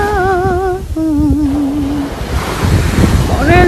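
Strong beach surf and gusting wind roar loudly on a shoreline, with a woman singing a cappella over the top before the waves swell and take over.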